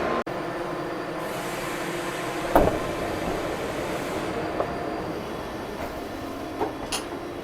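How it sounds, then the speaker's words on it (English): An RE1 regional train from Munich to Ingolstadt stands at a German platform, giving a steady broad rumble and hiss with a few sharp clanks and squeaks, close by and continuous. "this is the actual train I'll be boarding, RE1"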